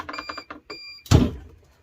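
Heat press for sublimation tumblers sounding a short series of electronic ready beeps, a rapid pulsing tone that stops, followed by a loud clunk as the press is shut.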